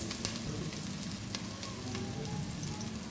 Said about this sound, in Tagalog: naigisa ko na yung bawang sibuyas